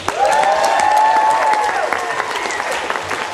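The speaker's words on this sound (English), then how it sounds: "A big round of applause for our score, Adam." Audience applause at a folk festival stage show, dense clapping with some cheering throughout, partly masked by a sustained sung or played tone early on.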